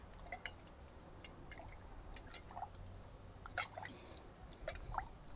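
Water is sprinkled onto soil sown with lady finger (okra) seeds: scattered soft drips and patters in quick irregular bursts, faint and close, with no voices.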